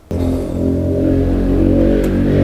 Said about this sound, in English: Guys are driving by on dirt bikes.